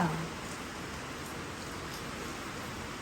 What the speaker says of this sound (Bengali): বাইরে কি বৃষ্টি হচ্ছে